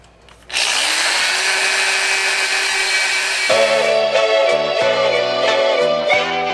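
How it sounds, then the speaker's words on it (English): A power drill whirs up suddenly and runs continuously at high speed, its pitch dropping and roughening as it bites into material while drilling a hole for an LED light bar. "first step to this is going to be drilling a hole"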